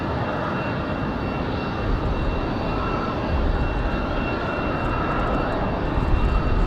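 A Denver flight airliner turning on final approach at Raleigh-Durham gives a continuous moderate engine rumble with a faint whine, slightly rising toward the end, with no talk.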